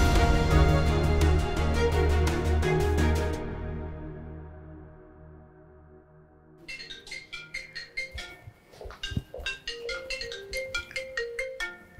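A telephone ringtone plays loud and steady as a repeating melodic tune, with a brief lull partway through before the ringing pattern resumes in quick pulses, with no talking.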